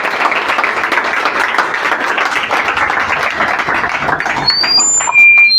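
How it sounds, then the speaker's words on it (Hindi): A room full of Delhi Police physical exam aspirants claps in dense, steady applause for several seconds, tapering slightly before a short louder stretch at the end. "ताली बजाओ।"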